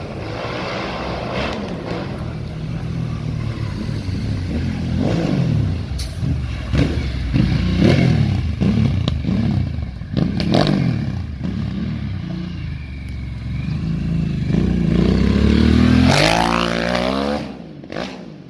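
A Harley-Davidson Sportster S with a modified exhaust pipe revs repeatedly, rising and falling in pitch with a rough, crackling exhaust tone, loud and nearby.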